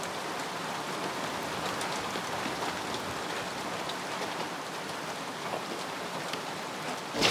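Rain falling on a film set: a dense, even hiss of drops pattering on surfaces, steady and fairly close, continuous throughout with no voices.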